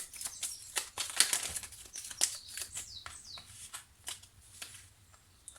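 Small Lenormand oracle cards riffled and shuffled by hand during a reading, close-up papery flutters and snaps in quick bursts, with no talk.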